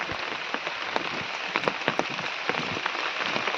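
Rain falls steadily on a Konkan garden where flowering plants are being fertilised, a dense hiss with scattered sharper drops tapping nearby surfaces throughout.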